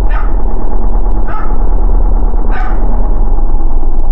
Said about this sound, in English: Oh, that's his dog, Sam.